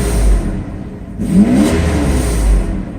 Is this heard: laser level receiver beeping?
no